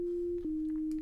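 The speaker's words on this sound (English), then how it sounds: "we just hear a single partial, the number one root fundamental partial sine wave, which is that very flute-like tone" A single sine-wave partial from the Alchemy synthesizer produces a pure, flute-like tone, steady and sustained with a slight pitch step partway through, playing alone.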